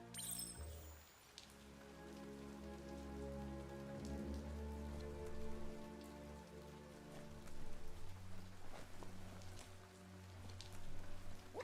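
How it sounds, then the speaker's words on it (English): Rain falling in the video game Biomutant, a steady wash of rainfall on surfaces laid under a sustained tonal game soundtrack, holding throughout with no voices. "Oh no! Rain!"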